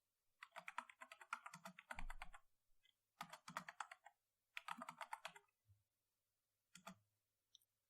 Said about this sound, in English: type the table columns